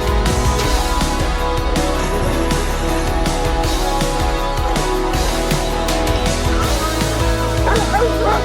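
A dog yips and barks repeatedly during a rescue, its short calls set against loud, continuous background music.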